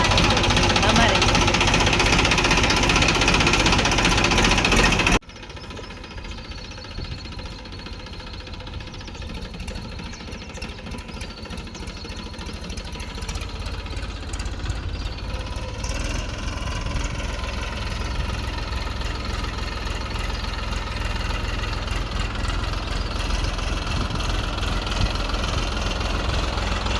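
A tractor engine runs steadily, very loud for the first few seconds and then a lower, continuous idling rumble, with people talking over it throughout.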